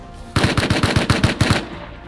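A rapid automatic gun fires in the survival video game Rust: a single burst of about ten sharp, loud shots in even rhythm that cuts off abruptly and leaves quiet behind it.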